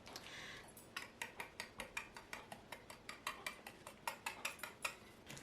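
Chicken croquette mixture stirred vigorously in a bowl, a fast, even run of utensil scrapes and clinks, close and quiet with no talking.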